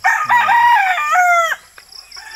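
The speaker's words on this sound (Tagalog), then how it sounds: "Dito tayo sa ating munting manukan." A rooster crows once, loud and close, in a small backyard chicken coop at about six in the evening, with brief low clucking near the start and quiet afterward.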